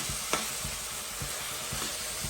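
Rougail de morue being deglazed in a pot, the bottom scraped with a spoon as liquid sizzles against the hot base, giving a steady fry hiss broken by rhythmic low scraping strokes about twice a second.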